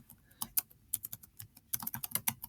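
Quick, irregular clicks of keys tapped on a computer keyboard, close and fairly quiet, with short pauses between bursts and no talking.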